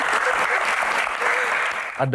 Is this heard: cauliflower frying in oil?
no